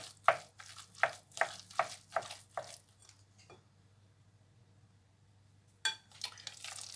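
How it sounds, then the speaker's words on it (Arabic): Cheeses being mixed with a spinach filling: a close, quiet run of about eight rhythmic stirring strokes, then a pause and a couple of final scrapes, with no talk. "كنخلطهم مزيان مع هاد السبانخ حتى كيتخلطوا لي مزيان"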